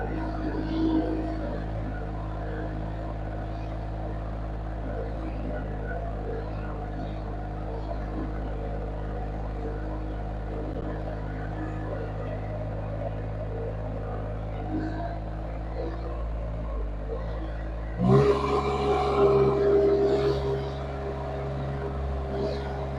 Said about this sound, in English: turn the revs up a bit and see how fast it goes.